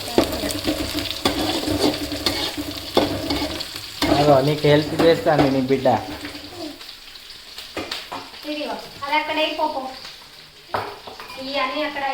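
Curry leaves sizzle in hot oil as tempering for fried rice made from leftover rice, with steady frying crackle and stirring scrapes in a pan while a person talks over parts of it.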